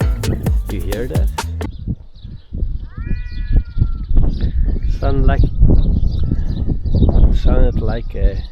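A cat meows in high, wavering, drawn-out cries that sound like a crying baby, heard outdoors beside water among loud talking voices and background noise.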